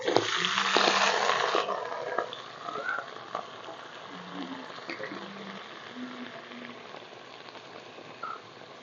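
Potatoes dropped into beans already frying in hot oil in a pan, a loud crackling hiss at first that settles into steady sizzling, with faint background sounds.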